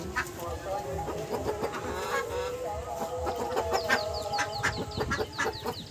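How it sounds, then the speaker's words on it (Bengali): Pure desi chickens clucking and squawking in a close, busy chorus of overlapping calls, with a soft voice murmuring underneath. "এই যে এগুলো একদম পিওর দেশি মুরগি"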